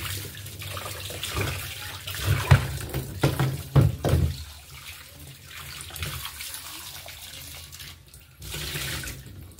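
A kitchen tap runs steadily while food is rinsed and washed for chicken curry, the water's hiss and splash swelling and dipping as hands move under the stream, with louder splashy bursts in the middle.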